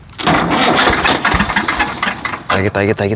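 A tractor with a weak, failing battery roars into loud, steady close-up engine noise with a rough, uneven chug, and a voice is heard briefly near the end.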